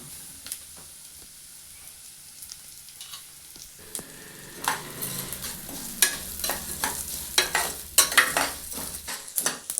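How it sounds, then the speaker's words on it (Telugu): Coriander seeds and sesame seeds frying in a pan for curry leaf powder, quiet at first, then a growing sizzle with repeated close, sharp stirring and scraping strokes. "ఇప్పుడు అన్నిటినీ బాగా ఫ్రై చేసుకున్నాం ఇప్పుడు ఇవన్నీ ఫ్రై అయిపోయాయి"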